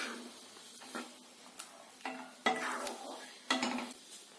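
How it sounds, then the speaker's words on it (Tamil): A spoon stirs through thick chickpea curry in a pot, with scraping strokes at an uneven pace alongside a soft sizzle; no voices. "சேர்த்துட்டு ஒரு டைம் லைட்டா கலந்து விட்டுறலாம்."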